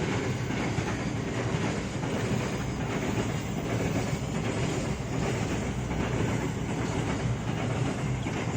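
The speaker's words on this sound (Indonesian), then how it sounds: "kereta lewat, maaf." A train rolls past continuously for several seconds with a steady rumble and rhythmic clatter of wagons, fairly loud and alone with no talk.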